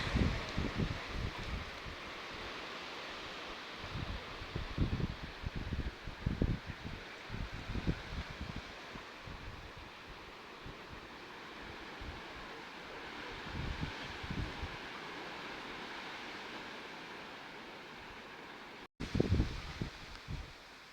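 Strong wind blows steadily with gusty roaring rumbles buffeting the microphone, continuous and loud throughout with no voices.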